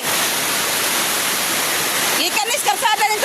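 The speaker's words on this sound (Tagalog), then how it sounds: "Gikanis karsada ning tubigan." Floodwater rushes off a road beside a church, a dense, steady roar of flowing water close by, with someone speaking over it toward the end.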